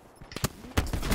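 Gunfire in the video game Black Ops 4 cracks in a few sharp, loud shots close together, with a quick volley near the end of the brief burst.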